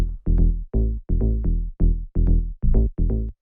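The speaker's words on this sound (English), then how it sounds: "I made it using Operator. What this is the simple FM sort of sine wave sound you can see." An FM sine-wave synth patch built in Ableton's Operator for a tech house track, playing a punchy bass riff of about ten short, round, decaying notes in a bouncy rhythm, loud and clean with no voices.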